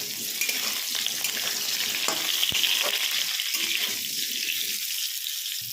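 Jackfruit pieces fry in hot oil in a pan until golden brown, giving a steady, close, even sizzle with occasional clinks and scrapes of stirring.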